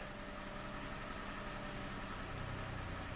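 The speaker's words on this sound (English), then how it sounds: "the engine's starting to stumble a little bit" A Lexus engine with a variable valve timing fault idles steadily and close, its low hum starting to stumble slightly, with no talking over it.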